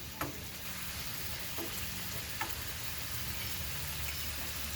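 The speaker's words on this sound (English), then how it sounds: "now that the heat's starting to come up on my bacon, I can slide things around a little bit" Bacon fries in a pan over a camp stove at Santee State Park with a continuous, even sizzle. A few faint ticks and pops rise now and then above the hiss.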